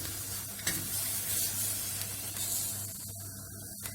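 Village peppers roasting over an open flame, a steady close sizzling and crackling hiss with a low hum underneath and small pops throughout, and no talking.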